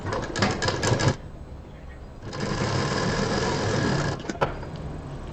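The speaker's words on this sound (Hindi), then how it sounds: "इस लाइनिंग के बराबर से ये पीस रखेंगे और पूरा सिल देंगे" Sewing machine stitching fabric pieces onto a lining for a handmade home decor gift item, running in close, steady bursts with short pauses and clicks between runs.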